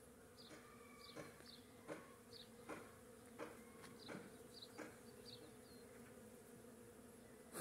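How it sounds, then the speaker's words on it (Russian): Bees buzz steadily around apple blossoms in spring, with a constant droning hum and individual insects swelling louder as they pass close by at irregular moments. "Куда ни смотри, везде пчелки, везде"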